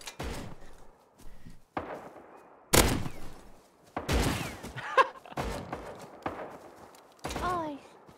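Shotgun blasts in a video game, several loud separate bangs spaced a second or two apart, each with a short decaying tail, mixed with clicks and brief game sounds.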